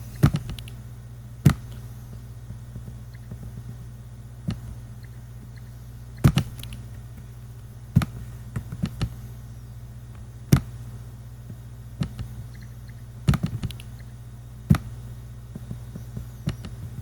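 Scattered keyboard clicks and occasional mouse clicks sound sparsely over a steady low hum, each tap close and distinct with irregular gaps between them.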